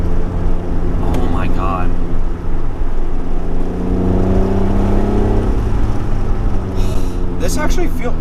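A 2005 Acura NSX-T with a manual transmission downshifts and accelerates, its loud engine droning steadily and climbing in pitch from inside the cabin while a voice exclaims.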